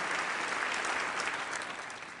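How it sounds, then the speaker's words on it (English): An audience at a magic talk on stage breaks into steady, full applause for a volunteer, a dense wash of many hands clapping at once throughout. "Everyone give her a round of applause"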